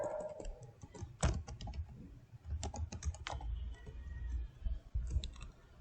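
Rapid typing on a computer keyboard, a stream of close, crisp key clicks in uneven bursts with a few heavier strokes, no talking.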